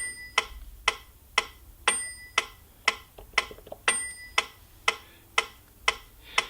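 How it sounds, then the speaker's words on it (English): Crisp metronome clicks from a Yamaha NP-31 digital piano at a steady pace, about two per second, some ticks carrying a brighter ringing accent, with nothing else audible. "We've got a metronome."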